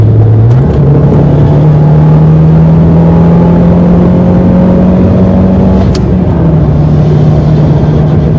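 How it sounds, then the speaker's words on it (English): A car fitted with a Coolerworx short shifter drives loudly from inside, its engine droning steadily with a pitch step near the start as it downshifts and settles into a slowly rising hum. "Downshifting is extremely quick."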